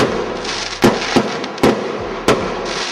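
New Year's Eve fireworks going off outside, four or five sharp, loud bangs at irregular intervals over a constant background hiss, with no voices.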